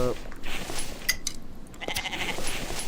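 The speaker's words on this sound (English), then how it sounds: "Oh, there's a sheep." A sheep in the video game The Infected bleats a few times over game ambience, while a player talks throughout.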